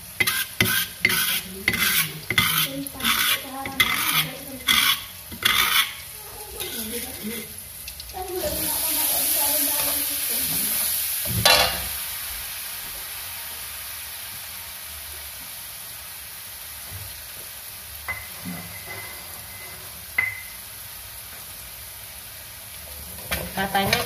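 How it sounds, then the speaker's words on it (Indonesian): Spice paste frying and being stirred in oil left over from frying anchovies, with a fairly close sizzle and repeated scraping and stirring strokes, some utensil clinks, and a few voices talking in the background. "Jadi bekas goreng terinya saya pakai juga buat goreng bumbunya ya bun, biar rasanya lebih enak."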